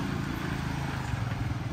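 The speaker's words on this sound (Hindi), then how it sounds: "चलो बाइक निकाल रहा हूँ" A motorcycle engine runs at a steady low idle as the bike is wheeled out, a muffled continuous rumble that stays fairly quiet and even, with no talking.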